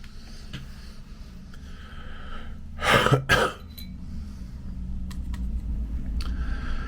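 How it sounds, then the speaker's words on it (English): A single harsh cough bursts out in two quick hacks, close and loud against a quiet room with faint background hum. "I was really having a bad cough there"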